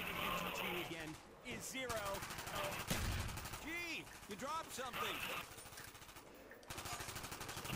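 Gunfire in Call of Duty: Black Ops on PC, dense continuous shooting and impacts packed together under game effects and tonal sweeps, loud and close, with brief gaps before the firing resumes.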